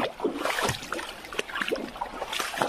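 Water flowing and trickling at Tada Waterfalls, a steady close splashing wash with small bright splatters throughout.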